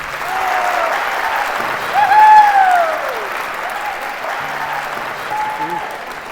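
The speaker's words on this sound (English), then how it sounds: "want you guys to give him a big round of applause." Audience applause for a guest speaker at a high school assembly, a steady wash of clapping lasting several seconds with a voice rising above it midway.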